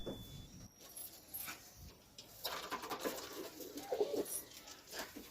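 Pigeons of the garibaj breed coo softly inside a loft in Beldanga, with a few low, throaty calls over faint rustling and fluttering, heard quietly and close by.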